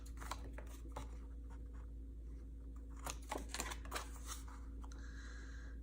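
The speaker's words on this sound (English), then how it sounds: "pull out my little scissors here and miter the corners just like you normally would" Small scissors snip the corners of paper for a mini album, quiet crisp cuts in a few irregular bursts over a faint steady hum.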